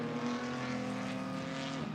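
A Porsche GT race car in British GT qualifying at Donington Park drives down towards the Melbourne hairpin, its engine droning steadily in clear harmonic tones and then dropping in pitch as it lifts off near the end.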